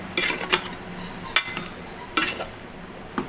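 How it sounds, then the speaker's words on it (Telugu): A ladle stirs fish curry with chili powder in a metal pot, giving a few separate clinks and scrapes over a low background, close and fairly quiet, with no voices. "ఇప్పుడు మొత్తం గరిటతో బాగా కలుపుకోవాలి"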